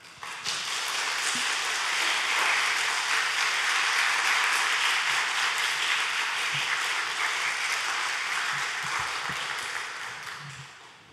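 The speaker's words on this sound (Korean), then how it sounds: "나오실 때 여러분 큰 박수로 환영해 주시고요." Church audience in a sanctuary applauding to welcome a performer at an autumn evening praise concert, a dense, steady wash of clapping that swells and holds for several seconds before tapering off, with no talk over it.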